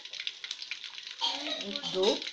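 Water poured into tomato paste in a hot pan, a steady bright sizzle and bubbling that swells and grows more turbulent partway through, close up, with no talking.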